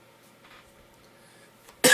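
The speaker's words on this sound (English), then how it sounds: "little bit of cough." After a near-silent stretch, one short, sharp cough bursts out loudly at the very end.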